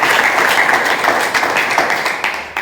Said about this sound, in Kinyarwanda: Amashyi menshi ku Mwana.